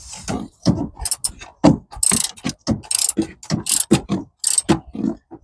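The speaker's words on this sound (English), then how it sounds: "So tight it up until you can't anymore, and then use your ratchet." A hand ratchet tightens the 12V battery terminal on a Kia e-Niro, with close, crisp clicking bursts repeating in short irregular strokes.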